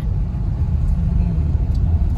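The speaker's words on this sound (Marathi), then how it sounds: "बघू शकता हे बघा कशा गाड्या जातात ते वरती वरती वरती" Cars, buses and other vehicles climb the foggy Lonavala ghat road in the afternoon, giving a steady close engine rumble and traffic drone throughout with no clear gaps.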